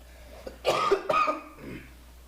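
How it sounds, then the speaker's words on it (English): Two harsh coughs in quick succession, close and fairly loud, followed by a softer throat-clearing rasp in an otherwise quiet room. "I got a cough again, which is freaking weird."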